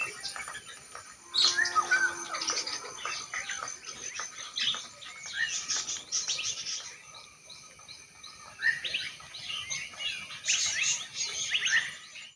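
Natural morning birdsong with several birds chirping and tweeting at moderate distance, bursts of calls recurring over a quiet background, with no talk.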